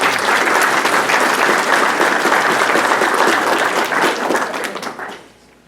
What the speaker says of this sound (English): Again, let's give them a round of applause.